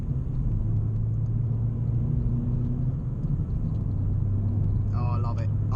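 Steady low road rumble and engine drone inside a Vauxhall Corsa E with a 1.4 litre 75 bhp engine, driving onto a dual carriageway; continuous and close, with a brief voice near the end.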